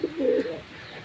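Pet pigeons feeding on rice and greens give one short, soft cooing call close by, a brief throaty murmur over a quiet background.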